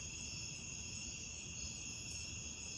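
Crickets chirp steadily through the night air, a continuous high shimmering trill holding constant across the whole stretch with a low rumble of outdoor background beneath and no voices.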